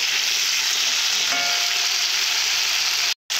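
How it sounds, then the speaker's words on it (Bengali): Potatoes and peas sauté with salt in a pan, giving a constant loud sizzle with a brief scrape of stirring midway, cutting off abruptly just before the end. "মশলা ছাড়া লবণ দিয়ে এইভাবে কষে নিবে"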